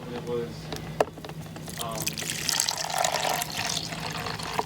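Water runs and pours during the cleaning of a coffee maker filled with fresh water, a steady splashing hiss with clicks and handling noises while a person talks nearby.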